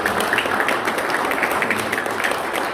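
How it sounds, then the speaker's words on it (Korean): Audience at a traditional culture awards ceremony applauding honored citizen donors, a sustained wash of many hands clapping at a steady moderate level throughout, without speech. "그분들을 위해서 큰 박수 한 번 보내주시기 바랍니다."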